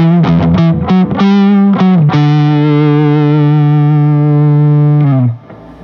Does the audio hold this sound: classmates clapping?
no